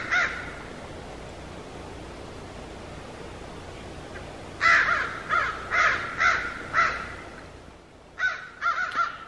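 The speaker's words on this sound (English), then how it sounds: "The ravens are circling." Ravens circle at sunset in Jackson Hole after harassing an owl, giving a run of loud, rhythmic caws in two clusters over steady outdoor background noise.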